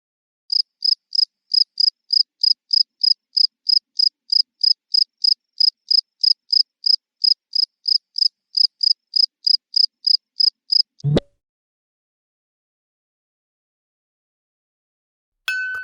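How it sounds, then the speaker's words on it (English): A single cricket chirps in a fast, perfectly even series of short high pulses, clear and close for about eleven seconds, then stops with a sharp click and falls silent. "Cricket chirping."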